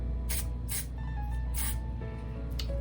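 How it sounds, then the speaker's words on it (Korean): Hairspray sprayed from a can onto a cotton pad for fixing eyelashes: four short, soft hissing bursts spaced about half a second apart, close and fairly quiet. "헤어스프레이를 사용해서 속눈썹에 조금 픽스를 해줄 겁니다"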